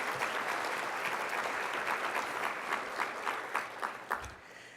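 Guests at a community college foundation dinner applaud the servers and venue staff, a full, steady round of clapping that tapers into a few scattered claps at the close.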